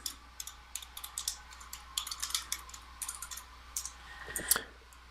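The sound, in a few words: typing on a computer keyboard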